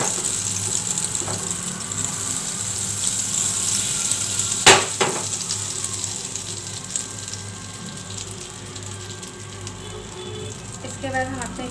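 Oil and butter heating in a pan for smoky Afghani chicken, a steady close sizzle with one sharp knock partway through and a faint voice in the background.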